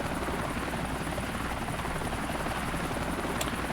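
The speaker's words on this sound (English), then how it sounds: "you have full control over the helicopter" A helicopter in the video game GTA IV flies along with a steady, loud rotor drone and engine whine that hold evenly throughout, with no talking.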